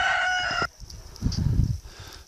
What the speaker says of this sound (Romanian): Haideți să mergem să mai turnăm mâncare la păsări.